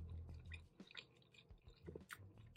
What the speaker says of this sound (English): Let me try the crackers first.